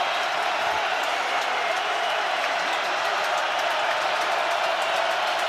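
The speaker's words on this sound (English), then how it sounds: "Crowd in full throat on a 3rd down and 10." A packed stadium crowd at an NFL Chiefs at Ravens night game roars on third down, a dense, loud, sustained wall of noise with a commentator's voice faintly riding over it.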